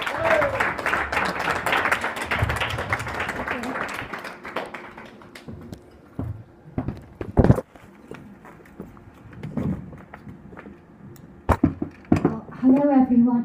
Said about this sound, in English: Please keep that applause going for Sally Firth.